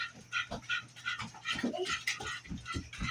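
A dog pants in quick, rhythmic breaths, close by and fairly loud, while a child chases it around a counter; steady bursts of short huffs run throughout with faint background hum.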